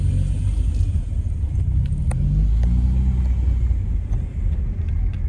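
A 1999 Alfa Romeo 156 1.6 engine rumbles with a deep, steady low growl, swelling slightly in the middle, close by and continuous with no talking.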